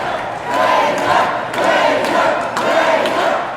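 Women's wrestling crowd cheering and yelling during a match, a loud, continuous roar that surges in waves.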